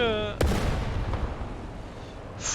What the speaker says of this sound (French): Fratia qui est en train de toucher avec le Churchill, là il donne tout.